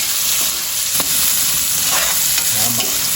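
Garlic and onions sauté in a pan with a close, steady sizzling hiss, broken by a few soft scraping stirs and small pops, and no voices.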